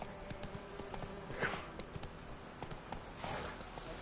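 Horse hooves clip-clopping at a steady walk in The Witcher 3, a quick even patter of muffled thuds with a couple of brighter, louder steps, held at moderate volume throughout.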